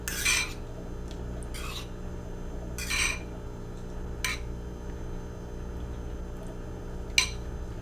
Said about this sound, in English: We'll just take a fork and blend them lightly.